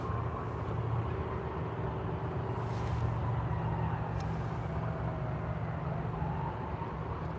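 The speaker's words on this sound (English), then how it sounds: "Fire trucks everywhere." A fire truck on an emergency run drives past beside a railroad line, a loud, steady, broadband road rumble that holds for several seconds with little change.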